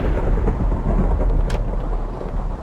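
Minecraft rain and thunder: a steady rush of rainfall with a deep rolling rumble of thunder underneath and a brief sharp crack near the middle, loud and without speech.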